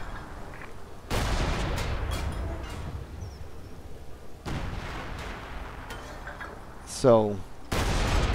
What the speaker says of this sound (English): this is a pretty heavy barrage